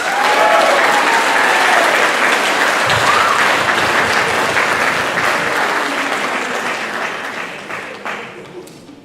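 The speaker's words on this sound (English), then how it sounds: "Please help me give a big round of applause for Mr." Band banquet audience gives a loud, full round of applause for a saxophone player and former section leader, sustained crowd clapping that slowly thins toward the end.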